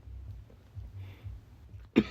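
A single sharp cough bursts out near the end, close and loud, after low murmuring room noise during a casual podcast recording session.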